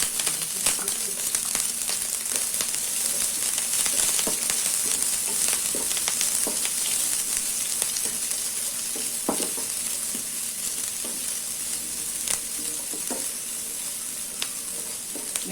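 Onion, green chili and curry leaves sizzle steadily in hot oil in a pan, a continuous close frying hiss broken by faint stirring scrapes, with no talk over it.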